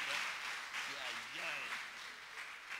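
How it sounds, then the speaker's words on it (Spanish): Congregation applause at a Sunday church service, a steady broadband wash of many hands clapping throughout, with a voice speaking over it. "Den un fuerte aplauso, hermano."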